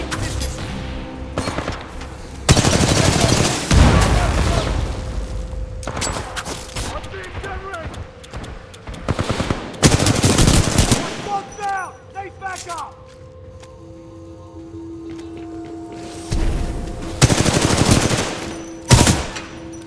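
Titanfall 2 combat rattles with bursts of automatic gunfire and heavy booming explosions, loud and repeated in clusters, while soldiers shout orders over the din.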